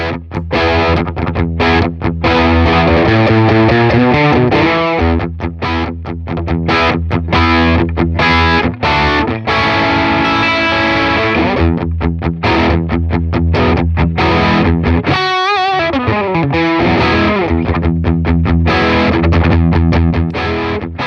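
Electric guitar driven through a Fender MTG Tube Distortion pedal with the levels pushed for a boost, loud saturated chords and riffs played continuously and close, with a brief pause near the end.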